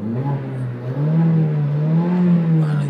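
A 2014 Mercedes-Benz CLA 45 AMG engine revs loud and close, a steady rising drone that holds high with a slight dip early on.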